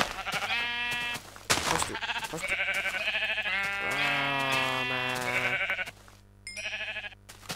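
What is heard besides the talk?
sheep bleating in a Minecraft-style video game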